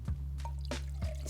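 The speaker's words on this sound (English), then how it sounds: "350 mils of water going into here" Water pours and drips into a Jetboil pot for Aeropress coffee outdoors, with a few soft splashes and trickles over a steady low hum.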